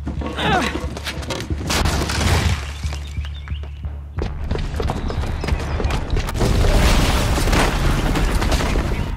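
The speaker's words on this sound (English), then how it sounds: "the booby trap on the bomb downstairs is gonna get set off" Booby-trapped bomb going off in a video game: heavy booming blasts and rumbling debris, loud and close, with crashes and clattering bursts continuing throughout, mixed with game music and effects.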